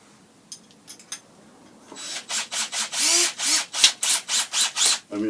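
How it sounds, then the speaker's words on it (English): An inch flat bit bores a hole into a wooden walking stick handle after a few light taps. The drill whines in steady, pulsing bursts, close and loud, with no talking. "bore the hole in it, keeping it centre on the handle. An inch flat bit should give it enough space to do it."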